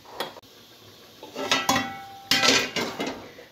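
Metal cookware clanks and scrapes as a pot is set onto a gas stove to fry chicken, giving a few sharp, close knocks and rattles over a quiet kitchen background.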